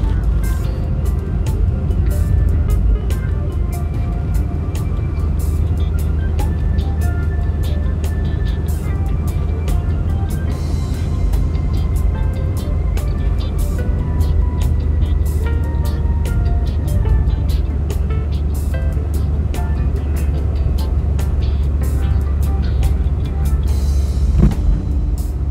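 A car drives along a road near Mandeville in Manchester, Jamaica, a constant loud low engine and tyre rumble with wind noise filling the whole stretch, no clear voices.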